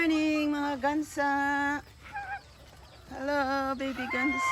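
Geese on a farm honk and call loudly and close by in repeated bursts, with brief quieter gaps between the calls.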